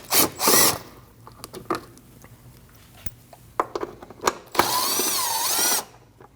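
A power tool works 10mm bolts on an underbody panel ahead of the brake rotor on a Ford Escape, with short close bursts and rattles, then a sustained whirring run near the end.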